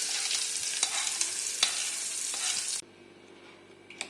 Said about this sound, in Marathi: मी ह्याच्यामध्ये ही फोडणीची आहे ती पूर्णपणे मिक्स करते